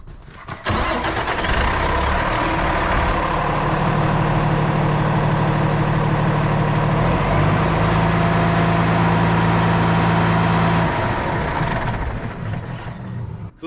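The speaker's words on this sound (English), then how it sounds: "then you would lower the outrigger enough so that it's touching" A bucket truck's engine and hydraulic pump run in a loud, steady drone while an outrigger is lowered, with a sustained whine that shifts pitch partway through, then fades near the end.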